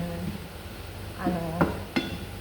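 Sliced onions browning and being stirred in a pan for a rice and mixed vegetable biryani, with a low steady sizzle and a few short scraping clinks of the spoon against the pan toward the end.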